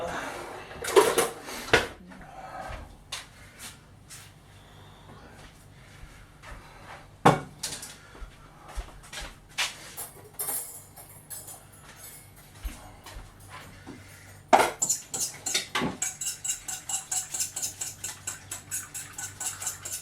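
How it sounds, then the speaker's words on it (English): Cooked rice being strained in a home kitchen while making a Thai-style pork rice bowl: scattered pot and utensil clatter, then a steady run of light pattering and clinks toward the end, close and fairly quiet. "let me just get a plate, strain the rice"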